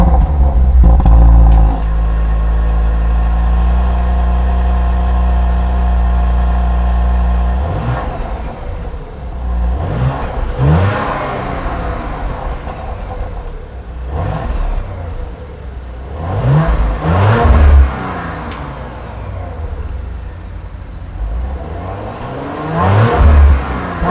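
A 2018 Audi RS5 coupe's 2.9-liter twin-turbo V6 holds a loud steady drone, then barks through several sharp revs that rise and fall in quick bursts, close and alone.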